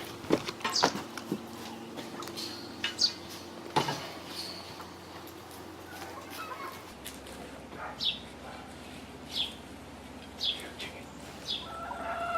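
Backyard chickens cluck and chirp in short, scattered calls, fairly faint and close by, with small knocks and rustling mixed in.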